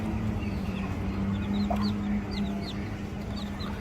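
A hen clucks softly amid high, faint peeping day-old chicks, with a steady low hum underneath throughout.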